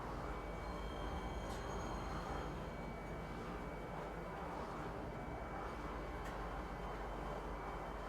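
A train pulls into a spaceport station in a video game, giving a steady, loud rolling rumble with faint high whining tones throughout and no voices.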